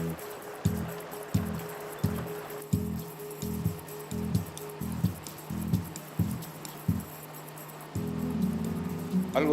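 Horses walking along a Patagonian shore, towing a boat by ropes: about a dozen evenly spaced, close, dull hoof thuds on wet gravel, followed by a rougher rushing wash at the end.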